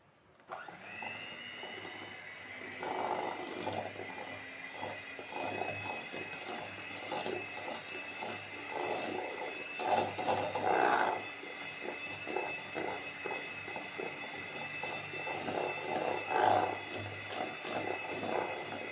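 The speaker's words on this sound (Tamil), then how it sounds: "அதனால் நான் பீட்டர் யூஸ் பண்ணி நான் இதை மிக்ஸ் பண்ணிக்கிறேன்." An electric hand beater whirs steadily as it creams butter and icing sugar for butter cookies, a continuous motor drone with small rattling bumps of the beaters against the bowl, fairly quiet and close.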